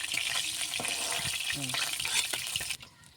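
Koi fish sizzle loudly in hot frying oil for a fish curry, a steady close crackle with a few stirring clicks, before the frying noise drops away abruptly near the end.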